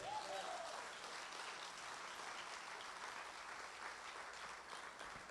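A church congregation gives a round of applause during a sermon, a fairly quiet, continuous spread of clapping that stays even throughout.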